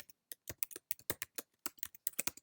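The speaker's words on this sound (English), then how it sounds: "You can just type." Quiet, irregular bursts of keys clacking on a computer keyboard, clustered taps with short pauses between runs of typing, close and alone.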